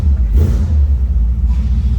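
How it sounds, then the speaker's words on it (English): The 292 engine of a 1957 Ford Ranchero pickup idles with a deep, throaty rumble, loud and close, with a brief swell at about the half-second mark. "Nice little throaty rumble coming out of that 292."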